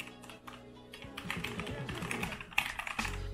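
A Logitech G410 mechanical keyboard is typed on in quick bursts of crisp clicky keystrokes, close and fairly quiet, with no talking.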